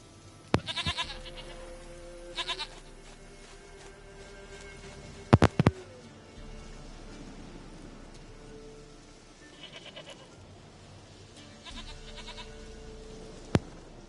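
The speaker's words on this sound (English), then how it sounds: "Goat of mine, dearest, sweetest goat." Goat bleats from The Witcher 3 video game come in a few short, separate bursts across a quiet stretch, with sparse clicks between them.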